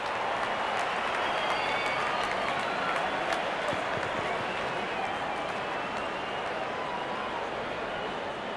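A large cricket crowd applauds a well-struck shot with dense, sustained clapping and cheering that holds loud and steady, then eases slightly toward the end.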